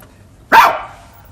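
A sampled Chihuahua bark triggered from a 1984 Simmons electronic drum kit: one sharp, loud bark that decays quickly into silence.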